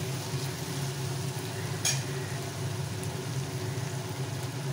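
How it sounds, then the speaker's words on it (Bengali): Chachchari vegetables stirred in a little oil, a low steady frying sizzle with a faint background hum and one brief sharp scrape of the spatula. "নিয়ে চচ্চড়িটা সামান্য তেলে একটু নাড়ি চাড়িয়ে নিয়েছি।"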